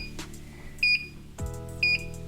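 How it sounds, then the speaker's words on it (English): Two short electronic beeps from a machine, about a second apart, over a low steady hum with a brief thud between them. "The machine's gonna beep soon."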